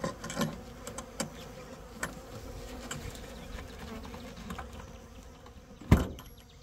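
Honeybees buzzing around an open hive outdoors, a steady close swarm drone with occasional sharp passes and knocks, one loud bump near the end.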